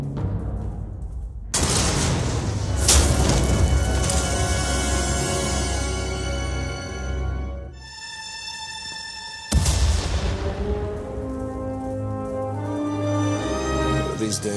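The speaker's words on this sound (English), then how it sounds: "We heard explosions. The tunnel collapsed." Loud, rumbling explosions and a collapsing tunnel's crumbling debris roar through a dense wall of Star Wars: The Old Republic game sound, easing briefly before another heavy burst hits and the rumbling continues.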